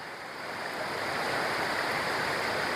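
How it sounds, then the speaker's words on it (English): Waterfall pouring over rocks in a quiet Scottish glen, a steady close rushing roar that swells slightly at the start and then holds loud and even, with no voices. "All you hear is birds and the waterfall."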